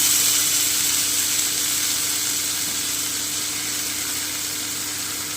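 Washed, drained spinach hits hot oil in a pan, giving a loud, steady hissing sizzle that holds evenly throughout and fades only slightly.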